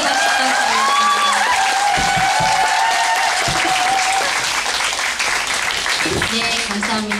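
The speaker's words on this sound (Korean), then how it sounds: "큰 박수로 환영해 주십시오." A fashion show audience at an awards ceremony claps loudly and continuously to welcome a guest. Crowd murmur and voices are mixed into the dense applause.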